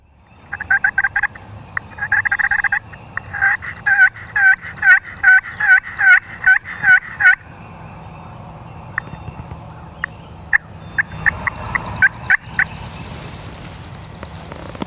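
Wild turkey toms gobble in the distance outdoors, a rapid series of rattling calls repeating in tight bursts, then fading to a few scattered answers against a quiet background.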